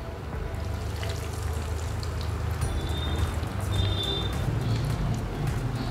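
Aloo tikki potato patties frying in hot oil, giving a continuous dense sizzle and crackle that stays steady and fairly loud throughout, with no speech over it.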